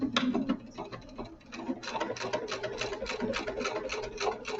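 Sewing machine stitching back over a bag handle, a steady rapid mechanical patter of needle strokes running throughout at close range, pausing briefly near the start before resuming evenly.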